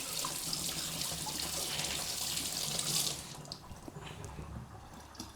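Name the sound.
washing tomatoes under running tap water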